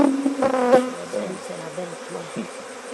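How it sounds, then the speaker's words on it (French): Bees buzz at a hive colony, a close, continuous drone with wavering pitch and a few louder passes as individual insects fly near. "On pourrait dire qu'ici, c'est des abeilles amazones."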